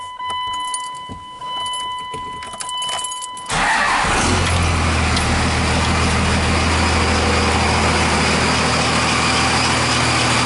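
A big Cummins diesel truck engine cranks and fires up at once, settling into a loud, steady rumbling idle after some quiet shuffling and jingling beforehand.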